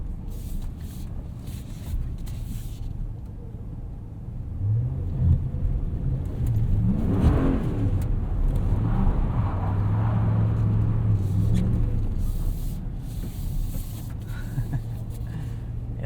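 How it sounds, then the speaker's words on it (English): A 2018 Ram 1500 Sport crew cab pickup in auto 4x4 climbs a snowy hill, its engine rumbling steadily and swelling as it revs, with tyres hissing through snow in a continuous close interior drone. "Let's throw it into auto and just see how it does up this hill."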